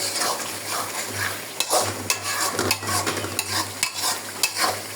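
Chicken coated with turmeric and chili is stirred in a hot pan, a spoon scraping and knocking the metal in repeated strokes over a low sizzle, close and clear with no talking.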